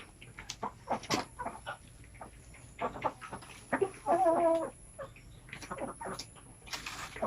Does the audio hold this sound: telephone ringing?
no